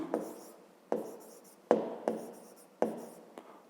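Numbers being written by hand with a pen on paper for a fifth-grade math exercise, several short distinct scratchy strokes close by, spaced roughly every half-second to second, quiet and without talk.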